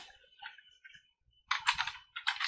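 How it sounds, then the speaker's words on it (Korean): Computer keyboard typing with an enter key press and clicks: a few faint, light taps, followed by two quick bursts of sharper, louder key clatter, heard close and alone. "엔터 클릭 클릭 클릭 다시 한번 클릭"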